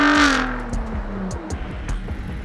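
A Ford F-150 Raptor's twin-turbo engine revs loudly up close, a strong rising roar that falls away into a rough, pulsing idle rumble, with no talking.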